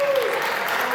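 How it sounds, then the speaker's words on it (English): Audience at an anime convention game show applauding a contestant, a short, steady burst of many hands clapping at close range, with a faint tone sliding underneath. "Let's give Alan a round of applause here."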